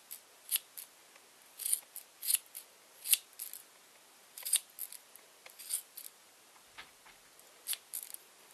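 Scissors snip through wound yarn to shape a pom pom. The crisp, close cuts come in irregular bursts, sometimes single and sometimes in quick pairs, over a quiet background with no voices.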